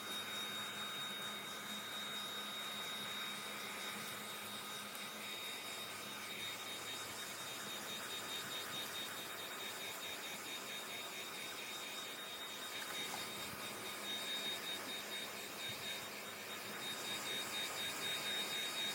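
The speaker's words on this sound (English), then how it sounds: "And then you're going to blow dry from the bottom up." A hair dryer blows steadily on the plastic wrap around a homemade diaper cake, shrinking it with heat. The airflow is a continuous, even whoosh that holds its level for the whole stretch, with no talk over it.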